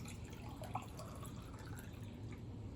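Water from a ZeroWater filter drips steadily into a container, a faint, continuous trickle with a few slightly louder drops and no talking.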